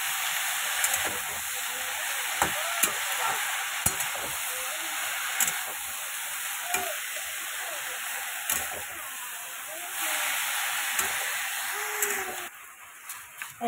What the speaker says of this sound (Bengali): দিয়ে বেগুন আর শাকটাকে সেদ্ধ হতে দেবো ভালো মতো।